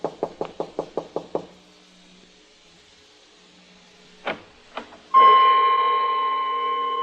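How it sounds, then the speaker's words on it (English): Seven quick, evenly spaced knocks rap on a door, followed by silence, then a couple of heavier thuds and a rising steady hum as a door seems to open, in an old-time radio drama scene. "Ali Faid hadn't answered my knock"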